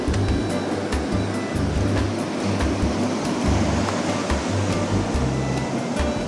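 Sea waves wash onto a beach at Khao Lak in a loud, continuous roar of surf. Low rumbling swells rise and fall beneath a hissing spray, with no voices.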